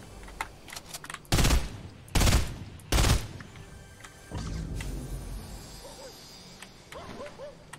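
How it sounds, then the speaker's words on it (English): Video game gunfire aimed at a cube: three loud bursts of rapid shots in quick succession, followed by quieter electronic effects and faint game sounds. "What if I shoot the cube?"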